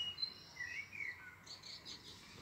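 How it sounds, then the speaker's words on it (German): A blackbird calls from a bush on an evening outdoors, giving faint, distant fluting whistles in a few short phrases over quiet background noise. "Oh, da hinten ist eine Amsel."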